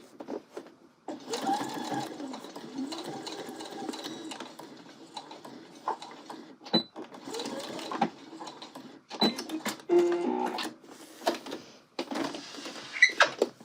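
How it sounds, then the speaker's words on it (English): A sewing machine stitches through a jacket's zippered welt, its main fabric and the pocket-bag seam allowances, running in bursts of steady mechanical whirring with short pauses and clicks between runs, close and moderately loud. "I'm sewing through the welt, the main part of the jacket, and then the seam allowances of the pocket bag"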